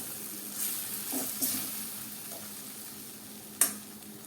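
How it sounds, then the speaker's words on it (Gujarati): Soft scraping and stirring of fenugreek leaves in a pan with a light sizzle, a few gentle strokes and one sharper clink near the end, no talking. "મેથીની ભાજીને સારી રીતે આપણે મિક્સ કરી લઈએ"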